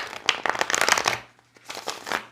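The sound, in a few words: shuffling tarot cards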